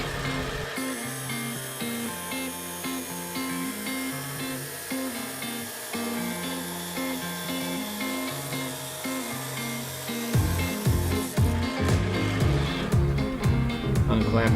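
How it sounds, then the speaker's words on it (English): A saw cuts the end off a Damascus steel billet in a knifemaking shop, giving a steady mechanical whine and grind with a droning rhythm throughout and louder, harsher bursts near the end. "Right now I'm just trimming the very end of the billet off so I know I've got clean steel."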